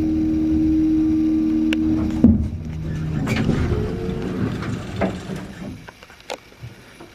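An elevator motor hums steadily as the car rides between floors in a Dominion elevator in Roanoke, Virginia, a low drone that shifts after a clunk and fades toward the end.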